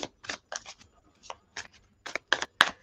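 Tarot cards are shuffled in quick, crisp bursts of riffling and slapping, close up, with short pauses between.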